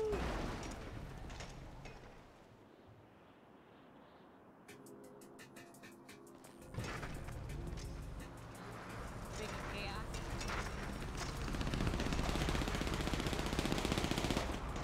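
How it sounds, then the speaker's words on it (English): Rapid bursts of gunfire crackle amid loud, busy noise, with a voice speaking over parts of it. "I hear gunshots."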